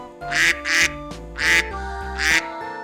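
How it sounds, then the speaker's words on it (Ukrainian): A duck quacks four times in a steady rhythm, loud and close, over soft background music. "О, а це качка. Вона любить плавати, а також говорити кря-кря."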